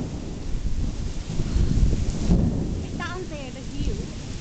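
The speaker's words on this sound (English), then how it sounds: "Wow, lightning and thunder and wow." Thunderstorm at Luk Keng, Hong Kong, with steady rain hiss and a deep rolling rumble of thunder building toward the middle; people call out excitedly over the storm.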